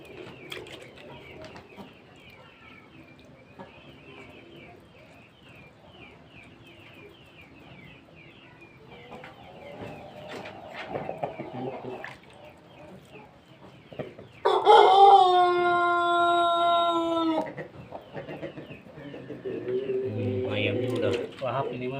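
Pelung chickens at feeding time make clucks and calls, with a loud rooster crow rising out of the steady background, and a voice speaks in the clip.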